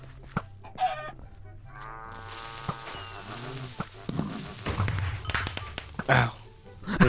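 Chicken clucks and a rooster-like crow ring out among game sound effects in Farm Hunt, with bursts of clattering noise and talk mixed in.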